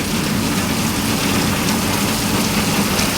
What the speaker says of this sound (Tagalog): lakas ng ulan, bukod sa ulan may hangin din na malakas